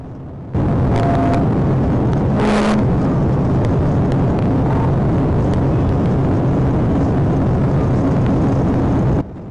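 Police car accelerating hard with emergency lights and siren on while chasing a fleeing Chevrolet Tahoe, a loud, steady engine roar that runs continuously over road noise.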